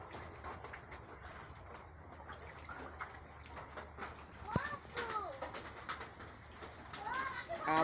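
Pet birds kept up high in a flooded home in Chattogram during heavy rain give several short, bright chirps in the second half, heard over steady background noise, with people talking.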